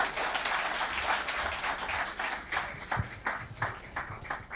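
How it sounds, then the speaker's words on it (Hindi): An indoor seminar audience claps together in sustained applause with dense, steady hand claps throughout, and no voices heard over it. "एक बार सब मिलकर तालियां।"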